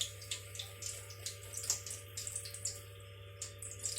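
Water runs and splashes as boiled chana dal is drained through a strainer, a close stream with uneven bursts of spatter and drips over a low steady hum.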